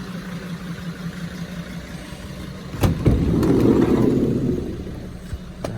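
A Mercedes Sprinter 316 CDI with the 2.7 diesel idles steadily with a low, even rumble, swelling briefly in the middle before settling back, with no talk over it.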